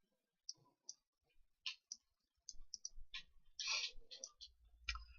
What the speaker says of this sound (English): Apologies if you hear all the clicking in the background.